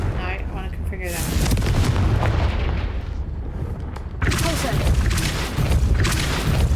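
A Confringo blasting spell explodes in Hogwarts Legacy, with loud, dense booming and crackling bursts running almost continuously, a sharp fresh blast near the middle, and a voice calling out the spell over the noise.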